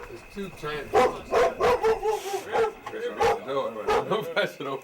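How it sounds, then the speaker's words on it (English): Two large dogs bark repeatedly in a steady series of deep, close woofs, with a voice briefly audible among them. "There's two giant dogs."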